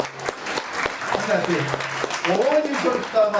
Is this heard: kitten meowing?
no